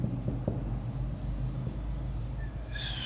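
Marker or chalk writing a sentence on a board, a steady close scratching stroke running throughout with a low hum beneath.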